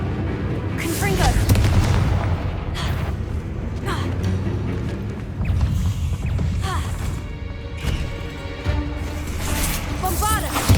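A fire-spell blast from Hogwarts Legacy in combat against spiders in Aranshire: several deep booms and bursts spread over background game music and effects, with a voice calling out spells.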